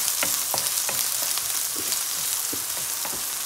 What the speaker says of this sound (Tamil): எண்ணெயை விட்டு முதல்ல நாங்கள் இந்த சோயா மீட்டை ஒரு பொரியிற மாதிரி பொரிப்போம்